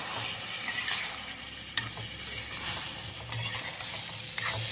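Mutton and potatoes being stirred and sautéed in a pan for mutton curry, a steady close sizzle with a few sharp scraping knocks of the spoon at intervals.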